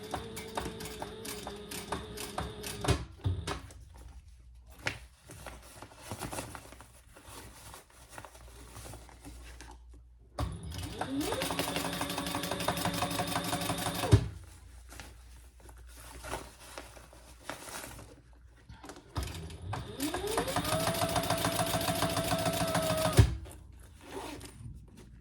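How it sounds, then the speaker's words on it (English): A sewing machine top-stitches the exterior of a fabric foldover crossbody bag in three long runs. Quieter stretches of handling fabric separate the runs. "So now we're only going to top stitch the exterior"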